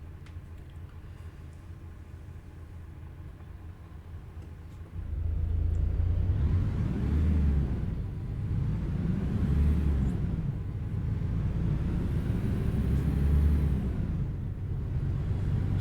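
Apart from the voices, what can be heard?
Kenworth K100 truck engine rumble while driving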